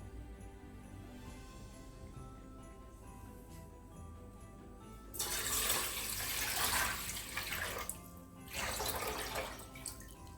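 After a quiet stretch, water gushes loudly into a pot for a few seconds, pauses briefly, then pours again, close and splashy; 2.5 litres of water for beetroot soup stock.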